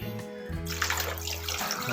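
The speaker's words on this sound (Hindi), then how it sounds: "और बाकी इस पे डाल देंगे हम पानी।" Water gushes steadily into a pot of raw chicken that has been seasoned with salt and vinegar, a close, loud pouring that fills the pot without a break and has no voices over it.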